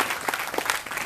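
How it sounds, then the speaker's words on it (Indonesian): An audience at a Mocopat Syafaat gathering claps for Mas Sigit and friends, a short burst of scattered, lively applause with individual claps standing out. "Tepuk tangan untuk Mas Sigit dan teman-teman."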